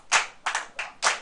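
Hand clapping: four sharp, close claps in an uneven rhythm within about a second, with no voices.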